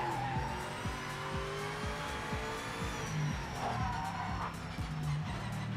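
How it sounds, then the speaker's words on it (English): Tyre scrub and squeal from cars in the racing game Project Motor Racing, with cold tyres, a steady engine drone underneath and repeated squeal bursts rising and falling throughout, loud and close. "I want to turn down that scrub sound."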